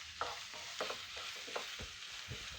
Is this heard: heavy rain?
no